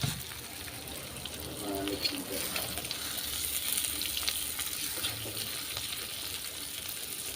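Food fries in hot oil with a steady, dense sizzle close to the microphone, holding at an even level throughout with faint stirring underneath.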